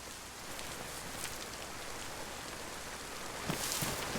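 Rain falling in the DayZ video game, set in Chernarus, a steady soft hiss of drops continuing throughout, with a slightly louder patter near the end and no talk.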